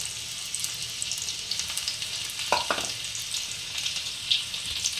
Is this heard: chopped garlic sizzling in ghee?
yes